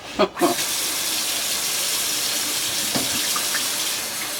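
Water poured from a tap or container into a cooking pot for clam chowder, a steady splashing rush lasting several seconds after a couple of brief knocks at the start.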